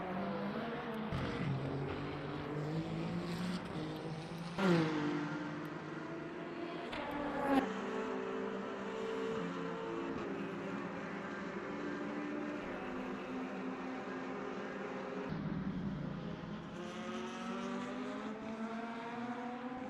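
Race cars at the 6 Hours of Le Mans, a BMW among them, roar past in sweeping engine notes that rise and fall, with two sharp passing surges amid a continuous mechanical drone.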